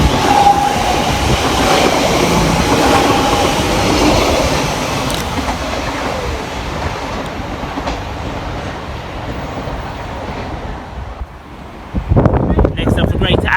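Class 345 unit 345007 pulls out of a station on a Shenfield to Heathrow service, its rumble and wheel clatter loud and close at first, then fading away, with a voice speaking near the end.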